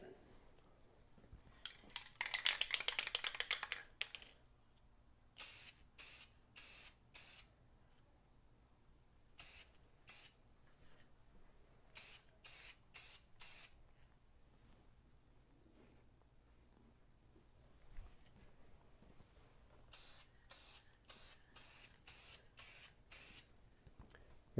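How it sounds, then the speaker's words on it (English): Matte clear coat sprayed from an aerosol can onto a Boba Fett helmet: one longer hiss, then a series of short, evenly spaced bursts in quick groups, close by in a quiet room. "So I'm going to hit it with some matte clear,"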